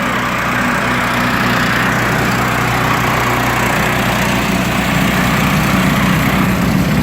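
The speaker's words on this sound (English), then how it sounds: "And I got snowblower action." A quick-disconnect snowblower attachment's small engine runs steadily and loud throughout, a continuous droning hum with no pauses and no voices.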